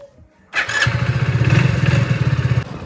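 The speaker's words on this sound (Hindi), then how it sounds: "अब यहाँ पर बाइक स्टार्ट करते हैं और चलते हैं मार्केट।" A motorcycle parked at a village home is started. After a short quiet moment the engine catches abruptly, then settles into a loud, close, steady putter of idling pulses.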